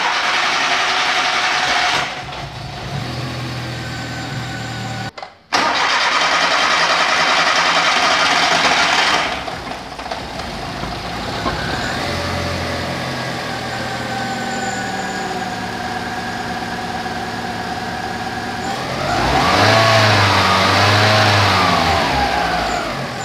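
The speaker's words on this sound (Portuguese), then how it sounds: "eu vou mostrar que ele pega também sem sensor de rotação" A car engine fitted without its rotation sensor cranks, catches and then idles steadily for a long stretch, with a brief cutoff near the start and a louder rev toward the end, close up and with no talking.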